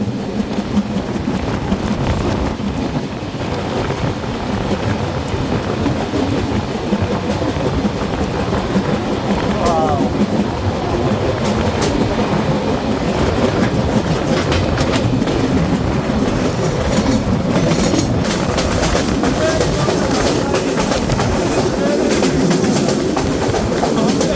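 A passenger train on the Khulna to Rajshahi run rumbles steadily onward, its wheels clattering in a continuous close rhythm with faint voices now and then under the noise.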